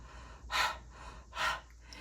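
Someone imitates the letter H sound with heavy huffing and puffing breaths, as if hiking uphill: two breathy exhalations about a second apart, close and fairly soft, with no words.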